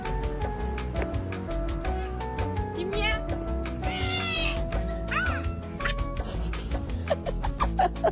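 A cat meows repeatedly over a steady music bed, with several rising, wavering cries standing out around the middle, fairly close and clear.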